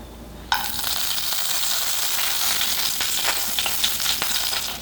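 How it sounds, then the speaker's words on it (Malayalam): Whole cinnamon, cloves and cardamom drop into hot cooking oil for a North Indian chicken masala, setting off a steady, close, bright sizzle of frying that holds for several seconds with small crackles and pops, no voices. "ഇതിലേക്ക് കറുവപ്പട്ട ഗ്രാമ്പു ഏലയ്ക്ക എന്നിവ ചേർത്ത് ജസ്റ്റ് ഒന്ന് ചൂടാക്കാം"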